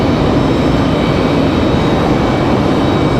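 An Airbus A220-100 airliner passes at Raleigh-Durham airport, its steady, loud jet roar filling the air from start to finish, with no talk.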